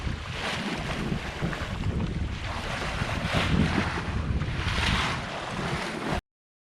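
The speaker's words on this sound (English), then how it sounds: "This wind is really blasting in." Strong wind blasting across a sailboat out at sea in the Providence Channel, a steady loud roar of gusts and microphone buffeting over rushing water, continuous throughout with no talk.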